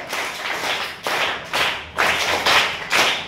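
A group of school students clapping in unison, loud and close, in about seven rhythmic bursts of applause with brief gaps between them, celebrating a classmate's first place in a scholarship exam.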